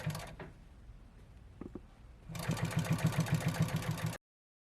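A sewing machine stitches chair upholstery cover pieces. After a quiet stretch with a few handling sounds, it runs in one steady, rapidly pulsing burst of under two seconds, fairly close, with no talking.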